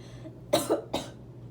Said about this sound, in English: I tried to cough away from the sound